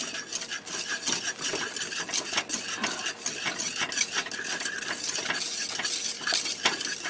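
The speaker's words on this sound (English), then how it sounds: "you don't want to stop stirring this because you don't want it to burn" Continuous scraping and stirring of a thick cornstarch pineapple filling in a pot, a steady busy rhythm of spoon against metal, close and moderately loud with no talking.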